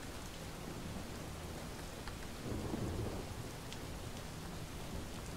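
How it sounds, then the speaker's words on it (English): Rainfall and distant thunder in the game Relics of Hyrule, a constant soft hiss of rain with a low rumbling roll of thunder swelling briefly midway, no speech. "clearly it's raining because I'm wet"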